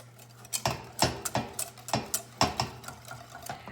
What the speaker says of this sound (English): And I like to use my whisk